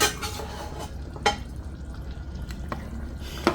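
Meat being added to a pot of egusi soup and stirred, with soft wet clinks and scrapes of a spoon against the pot and faint bubbling beneath.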